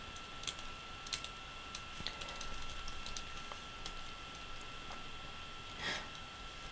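Someone types on a computer keyboard with scattered, quiet key clicks at an irregular pace over a faint steady hum.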